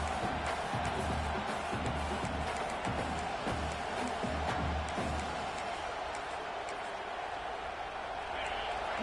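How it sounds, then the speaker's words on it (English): A large stadium crowd roars steadily throughout, a dense wash of cheering and shouting with no breaks. "Listen to the crowd energy here in the early going."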